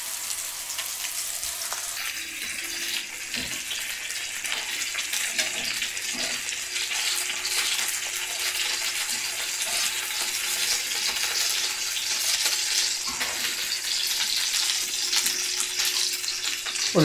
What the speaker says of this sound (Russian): Потихоньку пожарим.